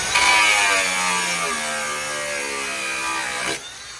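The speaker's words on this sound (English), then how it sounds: "get the grinder, I'll go and cut a hole." Angle grinder cutting a hole through thick metal in a workshop, a loud continuous whine with shifting pitch that runs steadily for several seconds, then cuts off abruptly.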